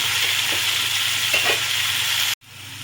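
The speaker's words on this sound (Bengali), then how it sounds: "পেঁয়াজটা আলুটা একসঙ্গেই দিয়ে দিয়েছি। এবার এটাকে একটুক্ষণ ভাজবো।" Potatoes and onions frying together in a pan for a Bengali okra and prawn curry, giving a steady broadband sizzle with faint stirring scrapes, cut off abruptly near the end.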